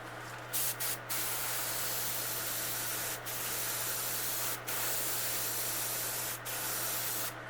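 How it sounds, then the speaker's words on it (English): An airbrush hisses in a steady spray while painting a realistic bluegill fish lure, close and continuous, broken by a few brief pauses, over a low constant compressor hum. "we're going to lightly spray at an angle so that some of the overspray gets down on the sides here"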